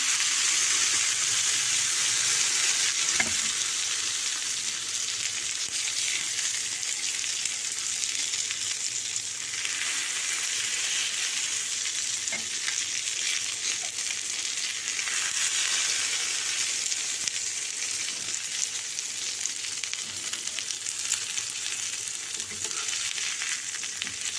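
Vanjaram (seer) fish fry sizzling in oil in a pan, a loud steady crackling hiss that carries on evenly from start to finish, close by, with an occasional stirring scrape.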